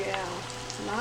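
Philly cheesesteak egg rolls fry in hot oil with a steady, close sizzle and soft crackle as they are turned over, with no talking.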